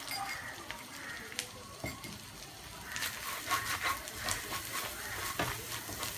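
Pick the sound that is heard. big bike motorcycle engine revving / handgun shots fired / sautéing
sautéing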